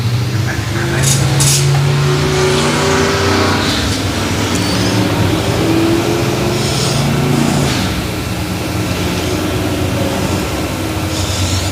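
Race cars packing the dirt track at Central Missouri Speedway make a loud, continuous engine drone with rising and falling revs, with a voice talking over the noise.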